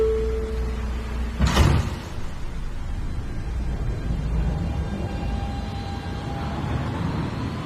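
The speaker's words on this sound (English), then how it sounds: "Stand clear of the closing doors." Doors closing on an R160B Siemens subway train, a sharp thump about a second and a half in, followed by the steady rumble of the car starting to move with a faint rising motor whine.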